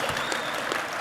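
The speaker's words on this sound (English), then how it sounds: "They're trying to clap, dude. Please, let them clap for a second." Audience applause from a studio crowd, a steady wash of clapping lasting about a second with no voices over it.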